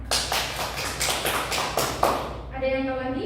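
A classroom of students in a microteaching lesson claps in a quick, rhythmic burst of about eight sharp claps lasting two seconds, and a voice follows right after.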